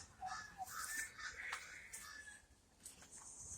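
Crows cawing outdoors among trees, several faint calls scattered over a quiet natural background, with other birds chirping softly.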